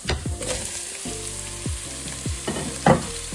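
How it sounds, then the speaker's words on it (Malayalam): Chopped onions hit a hot pan and fry for a spicy Sri Lankan chicken curry, with a loud sustained sizzle punctuated by several sharp clanks and scrapes of a utensil against the pan. "2 സവോള ചെറുതായിട്ട് അരിഞ്ഞാണ് ചേർത്ത് കൊടുക്കുന്നത്."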